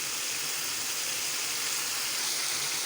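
Ginger and garlic fry in a pan for an aloo gosht curry, a steady loud sizzling hiss that holds evenly throughout with no talking.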